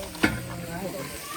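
Tomatoes frying in a pan, a low steady sizzle with a sharp clatter of stirring near the start, then soft continuous crackle with no talk.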